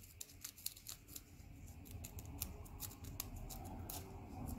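Fram PH4967 oil filter media tearing as it is cut open, a faint close-up crackle of paper fibres under a rough noise floor with repeated sharp snips, no speech.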